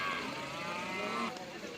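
A bull at a cattle market lets out one long, loud, steady moo that fills almost the whole stretch, with faint crowd noise beneath it and no talking.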